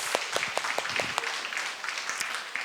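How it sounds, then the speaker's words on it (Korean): An audience in a church leadership training session applauds to welcome a speaker, a brief burst of scattered, moderately close hand claps fading into lighter claps. "박수로 우리 환영하겠습니다."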